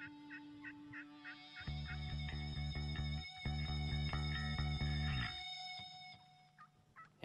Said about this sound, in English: And as Keith and Corey play a little dueling banjos on some Woodhaven calls, the big bird commits.